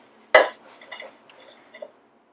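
Plant pots being stacked give one sharp ceramic clink followed by a few lighter, softer knocks and taps, close by in a quiet room.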